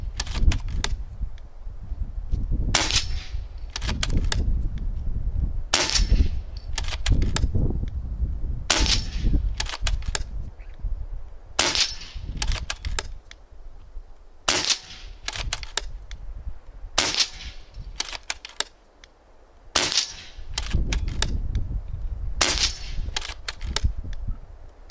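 A rifle fires at a concrete target, with about nine sharp, loud shots spaced evenly roughly every three seconds against a low background rumble.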